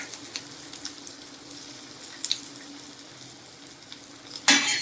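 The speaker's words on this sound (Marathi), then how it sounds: "चांगलं त्याला परतून घ्यायचंय मिरच्या चांगल्या भाजून घ्यायचं आपल्याला" Green chillies and garlic with salt fry in a pan for mirchi thecha, crackling in a soft, steady sizzle with occasional stirring, ending in a sudden loud burst of hissing.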